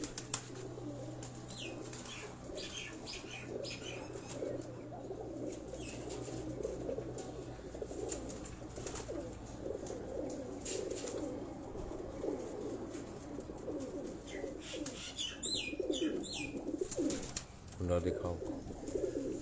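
Pigeons cooing on a rooftop in Rawat, steady soft coos with occasional wing flaps and chirps, under someone talking throughout.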